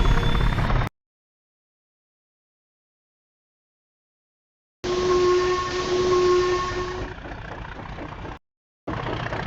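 A steam engine gives a long whistle over loud hissing steam as it sets off, bursts cut by short silences, the whistle tone holding for about two seconds before the steam noise carries on alone.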